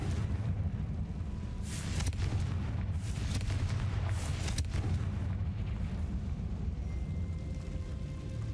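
A Confringo fire spell in the Hogwarts Legacy video game sets off several muffled booming blasts over a loud, continuous roaring rumble of battle ambience.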